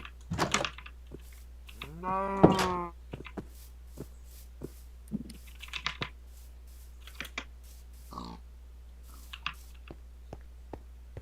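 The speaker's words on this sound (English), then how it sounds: "Just a stone little house with a cow in it." A cow in a small stone house inside a video game gives one clear, tonal moo early on, surrounded by sparse clicks and taps of keyboard typing in an otherwise quiet room.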